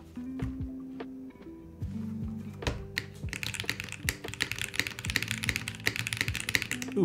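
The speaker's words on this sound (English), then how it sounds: "What do you guys think about the keyboard?" Rapid clicky keystrokes on a Bauer Lite mechanical keyboard with no desk pad rattle close by, starting sparse and building into continuous fast typing, with some low tonal sounds underneath.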